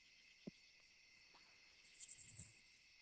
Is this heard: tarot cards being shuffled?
no